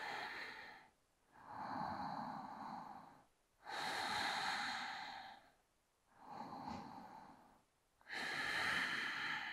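Slow, deep breaths taken close to the microphone during a yoga balance and concentration exercise, with four long airy breaths separated by short pauses and no talking.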